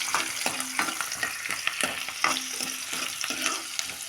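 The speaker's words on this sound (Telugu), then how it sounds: "ఇదైతే ఆనియన్ వేగుతుంది." Onions frying in a pan for egg tomato curry, a steady close sizzle broken by regular scraping strokes of a spoon stirring through them, with no talking.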